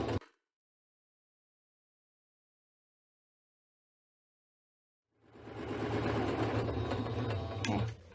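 Sewing machine stitching a half-inch seam on a tote bag, a steady close whirring run lasting a few seconds after a long pause, faint and mechanical.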